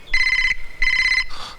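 A telephone rings indoors in two clear, shrill bursts separated by a short gap, followed by the start of a third ring. No one talks over it.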